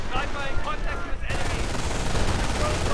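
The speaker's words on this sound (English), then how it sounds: "Rifle engineers getting hit by the MGs." Machine gun fire hits rifle engineers in a WWII strategy video game, dense crackling bursts with a continuous noisy rumble of battle, loud and close throughout.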